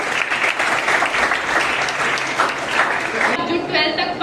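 A room of students claps steadily after a good question during a school success talk, a loud, even burst of applause that cuts off near the end as a voice speaks.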